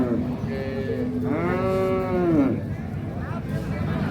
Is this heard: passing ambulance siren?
no